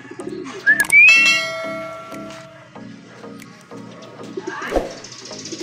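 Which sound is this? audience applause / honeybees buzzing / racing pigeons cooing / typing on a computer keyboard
racing pigeons cooing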